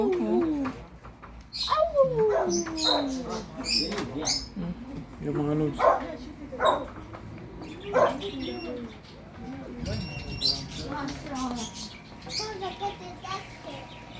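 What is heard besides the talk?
dog barking and whimpering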